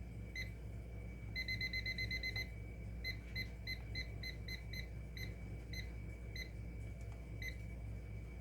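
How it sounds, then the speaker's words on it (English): A kitchen timer beeps while being set during homemade feta cheese making, giving a fast run of button chirps and then scattered single beeps, faint over a low hum. "So now I'm going to set my timer."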